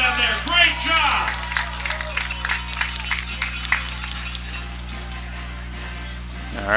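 Spectators at a Valley vs Tuscarora football game give a round of applause, scattered clapping from the stands beneath an announcer's voice over a steady electrical hum.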